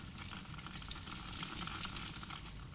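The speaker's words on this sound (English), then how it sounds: "This liquid is boiling at minus 196 Celsius." Liquid nitrogen boils at minus 196 Celsius with a steady, dense sizzling hiss, faint and continuous, with fine crackling bubbles throughout and no voice.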